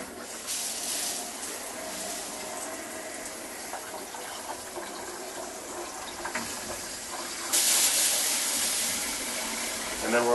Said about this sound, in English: I'm just going to start by turning the hot water on all the way